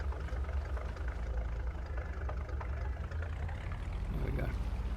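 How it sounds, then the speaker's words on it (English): A truck engine idles in the Farming Simulator 22 video game, the truck in need of engine work; a low, steady rumbling drone runs throughout at moderate level. "This truck needs some engine work."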